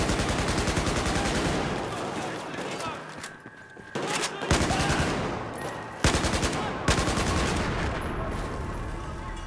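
Rapid automatic sniper rifle fire in Battlefield 4, loud, sustained bursts of shots with brief pauses between volleys, mixed with in-game battle noise and occasional talk.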